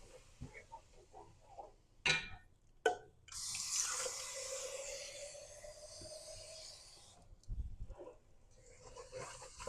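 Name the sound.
water being added to a pot of soup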